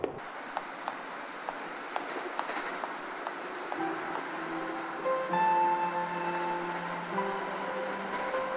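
Regular clicking beats give way to a steady mechanical hum with sustained tonal whines, like a toy train rolling along in the game A Memoir Blue, moderately loud with no talking.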